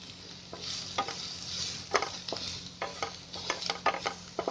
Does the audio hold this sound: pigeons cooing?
no